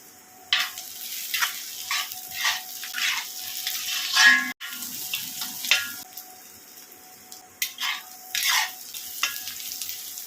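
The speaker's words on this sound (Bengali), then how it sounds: "পেঁয়াজটা দু তিন মিনিট নাড়াচাড়া করার পরে এর মধ্যে কুচানো আদা কুচানো রসুন আর কাঁচা লঙ্কা কুচানোটাও দিয়ে দিলাম" Onion, chopped ginger, garlic and green chilli fry in a pan, with a soft steady sizzle broken by repeated scraping stirs of a spatula at close range, no voices.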